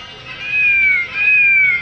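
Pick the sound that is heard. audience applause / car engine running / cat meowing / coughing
cat meowing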